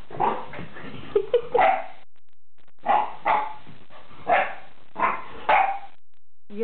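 A blue nose pit bull barks in short, close bursts: a cluster of quick barks and yips, then several evenly spaced single barks separated by silent gaps.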